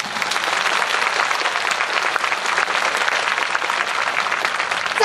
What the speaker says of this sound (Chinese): 我们应该要给我们南台湾的同学最热烈的掌声